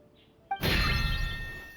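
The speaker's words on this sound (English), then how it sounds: "Why is the bell ringing all of a sudden?" Magical detector bell in the Genshin Impact video game rings out: a short chime, then a sudden bright shimmering burst that sustains loudly with no voices.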